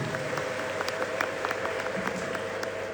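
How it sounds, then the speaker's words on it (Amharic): A church congregation claps in steady, dense applause that carries on for the full stretch, with faint voices mixed into the room. "አጨብጭቡ ለጌታ ክብር።"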